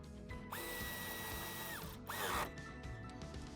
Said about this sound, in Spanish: usaremos un tornillo para sujetarlo sobre un punto de masa que dispone ya la carrocería